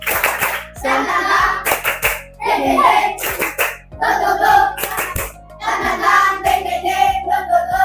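A classroom of students claps out a rhythmic chant, the tepuk semangat, with loud bursts of hand claps in quick patterns and children's voices chanting between them.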